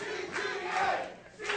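A crowd at an indoor professional wrestling show cheers and shouts loudly for the whole moment, a dense wash of many voices with no single voice standing out.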